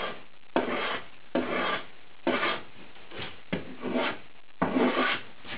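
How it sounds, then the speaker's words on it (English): A small hand plane bevels the edge of wooden window timber with six even strokes, each a dry rasping swish separated by brief pauses, close and clear with no talking. "I've got quite a small plane here, and you can just bevel it off"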